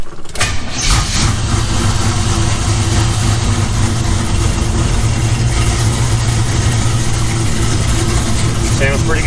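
A Chevy Nova V8, freshly fitted with a new cam and heads, cranks briefly and catches, then settles into a loud, steady, throaty run that fills the whole stretch.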